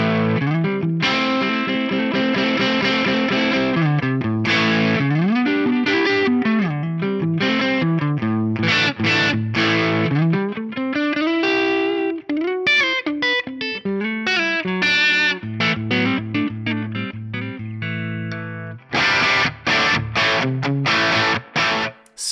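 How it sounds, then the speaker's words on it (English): Overdriven electric guitar on the bridge pickup through an amp model, gritty breakup on chords and bending lead notes, played continuously with brief pauses and a loud strummed ending. "when I switched to the bridge pickup and hit it hard, I got some really nice breakup out of it"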